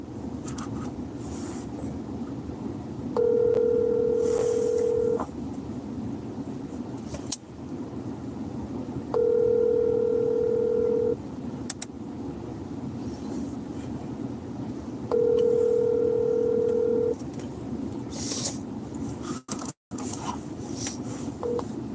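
A phone call rings out unanswered, with three evenly spaced ringback tones over a steady low background hum.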